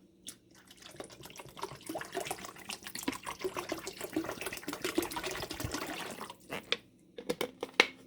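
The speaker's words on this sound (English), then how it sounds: "So I think I'm going to add some more water." Water pours and trickles into a pan of turkey gravy in a close, faint splashing stream with scattered drips and stirring clinks.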